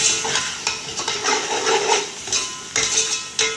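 Garlic, onion and cabbage are stirred in a pan for chicken and vegetable rice: a close, steady sizzle broken by repeated scraping strokes and a few sharp utensil knocks against the pan.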